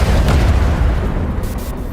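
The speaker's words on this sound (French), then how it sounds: "Des explosions." Explosions in a video game trailer set in a riot-torn London, a heavy, loud rumbling blast with deep booming low end that carries on steadily for about two seconds, with no voices over it.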